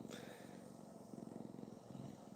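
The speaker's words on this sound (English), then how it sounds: "purring. Get the motor going." A cat purring close to the microphone, a soft, steady low rumble with rhythmic pulses that runs unbroken throughout, with no talking over it.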